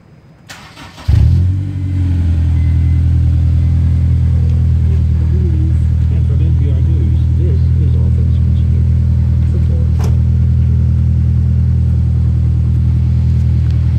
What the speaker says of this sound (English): this is going to be a short video describing the sound of my exhaust